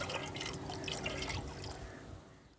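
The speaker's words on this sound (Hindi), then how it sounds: "हमने जो सिरप बना के रखा था ठंडा हो गया, तो वो भी हम इसी में ऐड कर देंगे" Cooled syrup poured into a Rooh Afza watermelon drink, a soft continuous liquid trickle and splash for a couple of seconds, fairly quiet and fading at the end.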